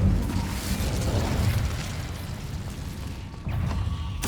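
Fire spell blasts cast in the Hogwarts Legacy video game: a loud, continuous roaring burst of flame and impact noise with a brief dip before another surge near the end, no speech.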